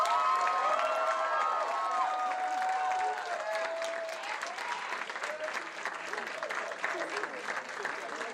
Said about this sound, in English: give another round of applause and welcome to the stage